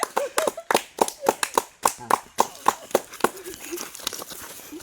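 An audience claps at a stage event, loud uneven bursts of handclaps coming in quick irregular waves while a voice talks over them.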